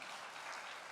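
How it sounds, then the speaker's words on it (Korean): A congregation at a church-wide retreat breaks into dense, continuous clapping that fills the room evenly, fairly soft and without voices. "우리 수고하셨다고 우리 박수로 박수하도록 하겠습니다."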